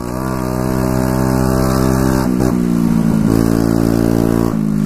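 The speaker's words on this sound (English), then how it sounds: "A straight pipe moped," A loud, raw four-stroke moped engine with a straight-piped, unmuffled exhaust drones up close, then revs sharply a few times before settling back to a steady buzz.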